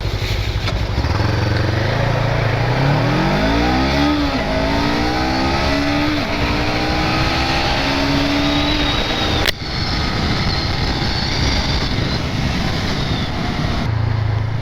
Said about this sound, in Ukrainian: Мотор добре крутиться в середньому діапазоні.